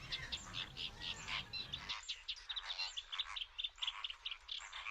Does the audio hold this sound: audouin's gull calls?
yes